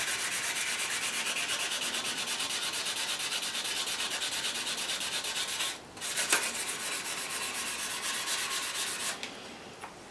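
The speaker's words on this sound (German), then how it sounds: "Nun bin ich gerade dabei und schleife die Übergänge, so gut es jetzt geht" Steady hand sanding smooths the joints on a motor scooter part, a close, continuous rubbing rasp broken by a brief pause partway through, with no voices.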